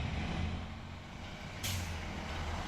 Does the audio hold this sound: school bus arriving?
yes